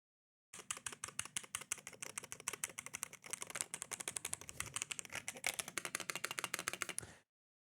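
Melgeek MADE68 Pro Hall effect gaming keyboard being typed on in a fast, steady stream of crisp clacky keystrokes that run for about seven seconds up close and then stop.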